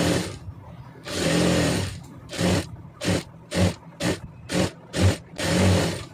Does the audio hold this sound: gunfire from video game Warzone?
no